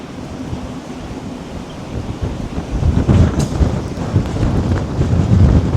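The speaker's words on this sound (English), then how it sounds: "We're going to have to get out of here for now because this rain is just slamming us." Heavy rain and gusting wind lash a fishing pier on Saint Simons Island, Georgia during a storm, a steady roaring wash of wind noise that swells louder partway through, with no talking.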